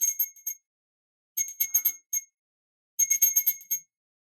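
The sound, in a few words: bell rung three times to cleanse the area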